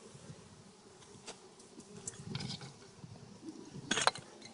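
Honey bees buzz around an open beehive during an inspection: a faint, continuous hum with a few brief louder passes near the listener, no voices heard.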